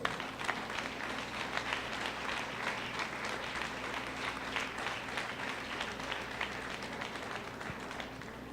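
A church congregation applauding during a service, steady crowd clapping heard at a moderate distance, continuous and even in level with a faint low hum underneath.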